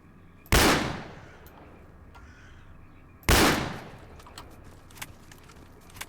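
Two loud, sharp shotgun blasts in the STALKER Anomaly game, roughly three seconds apart, each followed by a decaying tail, with quiet ambient noise and faint clicks in between.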